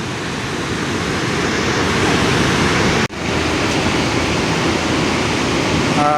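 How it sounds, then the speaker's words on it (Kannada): Unchalli Falls on the Aghanashini River pouring in full flood, a dense, steady roar of rushing water heard from a distance, unbroken apart from one brief dropout. "ಹ್ಯಾಂಗೆ ಉಕ್ಕಿ ಹರಿತದೆ ಅಗ್ನಿಶಿ ನದಿ"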